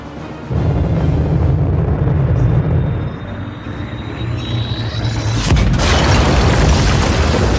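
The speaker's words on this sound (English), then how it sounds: "I have one satellite-turned bomb coming in hot." A satellite turned into a bomb detonates in a sci-fi shooter game, a loud sustained rumbling boom that rolls on for several seconds and swells again with a sharp burst near the end, no voices.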